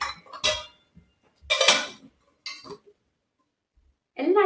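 Steel utensils clink and knock against one another in a few short, separate bursts with quiet gaps between, close by, as items come out of a packed parcel.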